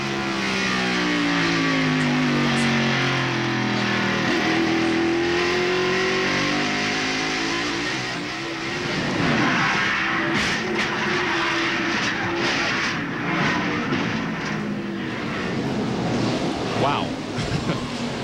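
NASCAR Winston Cup stock cars race at Martinsville Speedway in 1995, engines droning loudly throughout with pitch sweeps as cars pass, while a commentator talks over the racket.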